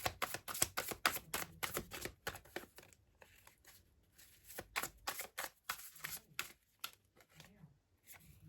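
Tarot cards shuffled by hand, a quick run of crisp riffling flicks and taps with short pauses, close and fairly quiet.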